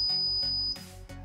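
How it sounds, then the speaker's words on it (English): An Arduino-driven piezo buzzer on a homemade touch switch sounds a steady, piercing electronic beep that holds for most of a second before cutting off, with faint pulsing hum underneath. "buzzer is on after 5 seconds"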